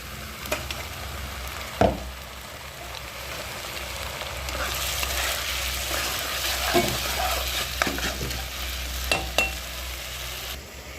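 Onions fry in a pan until reddish brown, a steady close sizzle with occasional stirring scrapes and a few sharper clicks, continuous for the whole stretch with no talking.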